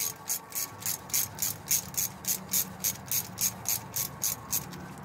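A hand ratchet backing out the pan bolts on a car's automatic transmission: a crisp, evenly paced run of clicking strokes, about a dozen in a few seconds, close up and alone.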